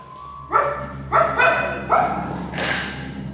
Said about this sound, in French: Rapidement, le chien Wolf arrive